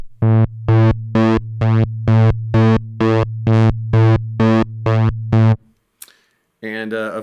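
Square waveform on a Moog Grandmother analog synthesizer, heard as a loud, hollow, buzzy tone pulsing on and off in about eleven steady, evenly spaced bursts. The clip ends with a short click and a voice briefly speaking.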